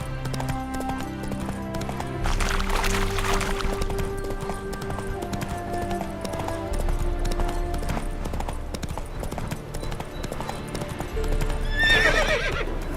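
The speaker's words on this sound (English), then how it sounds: "Spooking my horse." Roach, Geralt's horse in The Witcher 3: Hearts of Stone, spooked by ghosts, whinnies loudly over repeated clip-clopping hooves, with game music running throughout and a sharper neigh near the end.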